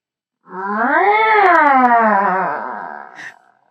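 A person imitates a cat's drawn-out, complaining meow, one long wavering wail rising then sinking, close and clear.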